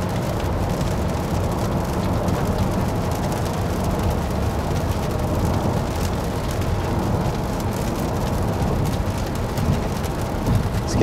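Light drizzle heard from inside a moving Toyota Veloz cabin blends with steady road and air noise into a constant, fairly loud broadband hiss throughout.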